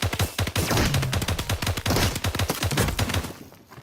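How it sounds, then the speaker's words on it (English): Rapid gunfire from a gold SCAR assault rifle in the Fortnite video game: about sixteen shots in quick, uneven bursts, loud and close, fading out at the very end. "I only actually hit 5 out of my 16 shots there"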